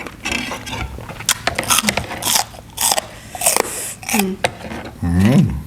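Crunchy squid in a fiery chili sauce is bitten and chewed up close, giving loud, sharp crunches and wet chewing with short pauses, plus mouth noises and a brief hum.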